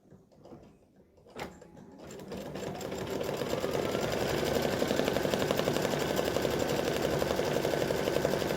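An embroidery machine sews a placement stitch for a pumpkin appliqué, starting after a sharp click and then rattling in a fast, steady, even rhythm that grows louder and holds close and continuous.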